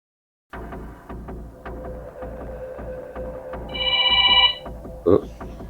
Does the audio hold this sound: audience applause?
no